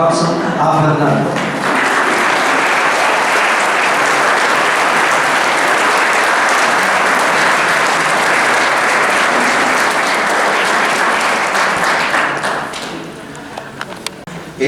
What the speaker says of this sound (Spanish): para que todos le den un fuerte aplauso a Fernando